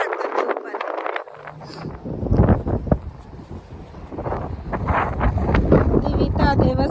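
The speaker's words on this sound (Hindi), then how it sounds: "एकदम से धूप चली गई है और हवा चलने लग गई है" Gusty wind blows outdoors on a snowy day where children build a snowman, rumbling against the microphone as a loud, steady roar, with children's voices audible early on.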